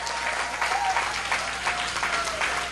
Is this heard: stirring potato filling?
no